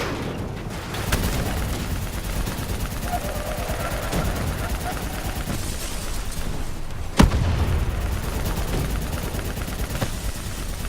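Gunfire in the Black Ops 3 video game, a dense continuous wash of shooting and battle noise with one sharp louder shot partway through, under bursts of talk.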